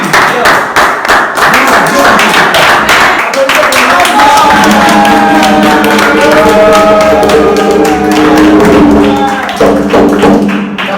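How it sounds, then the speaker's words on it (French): An audience at a church gathering bursts into applause, sustained clapping running throughout while a speaker's voice and music carry on over it. "Applaudissez pour lui."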